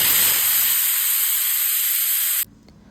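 A pressure cooker whistle blasts a loud, steady hiss of escaping steam with a high whistling tone for over two seconds while mushroom biryani cooks, then cuts off abruptly to quiet.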